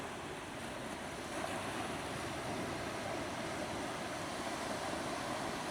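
Ocean waves wash onto a shore in a steady, continuous rush of surf noise, fairly loud and even, with no voices.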